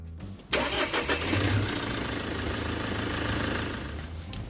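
A car engine starts after sitting unused for a long time: a short starter crank, then the engine catches and settles into a steady mid-pitched idle that carries on alone.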